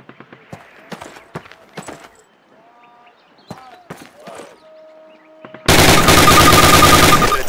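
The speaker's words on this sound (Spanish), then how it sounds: "Dispare 10 veces a su objetivo, primero desde la cadera y luego con la mira del arma." Rapid automatic gunfire from the World War II shooter game Call of Duty during target practice, bursting in loud and sustained over the last couple of seconds after a stretch of quieter game sounds and scattered clicks.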